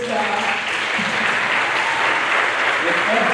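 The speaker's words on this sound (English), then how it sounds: "Can you please put your hands together?" An audience at a school's new parent night gives steady, continuous applause with clapping at an even level throughout, and voices murmur underneath.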